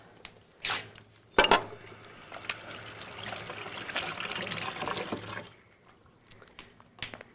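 Tap water runs and splashes for several seconds while something is washed off during summer barbecue food preparation, close and steady, framed by a few clinks and handling sounds before and after.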